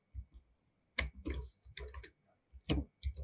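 Someone typing code on a computer keyboard during a live SQL mock interview, a few short bursts of close key clatter separated by brief pauses, with no voices.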